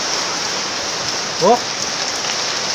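Heavy rain pours steadily outdoors as dense, loud hiss, and a man briefly exclaims once over the downpour.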